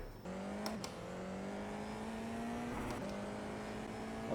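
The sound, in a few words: race car engine leaving the pits in a racing sim video game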